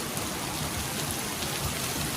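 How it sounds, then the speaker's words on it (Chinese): Heavy rain pours down at a campsite in a storm, a dense, constant roar of drops drumming on nearby surfaces without pause. "看看这雨有多大！"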